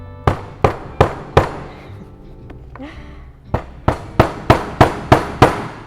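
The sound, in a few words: hammering a hole punch through material on a self-healing mat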